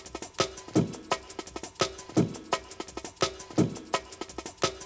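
A drum and bass loop made of chopped pieces of a drum break repeats its one-bar pattern several times. It has punchy kicks and crisp snares with busy ghost hits between them, loud, with nobody talking.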